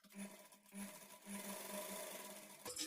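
A sewing machine stitches a quarter-inch folded fabric edge on a blouse lining, a quiet, fast, even mechanical whir with a rhythmic needle pulse that stops briefly near the end.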